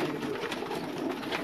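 Low, soft cooing from pigeons in a loft murmurs steadily for a moment, close and fairly quiet, with no voices.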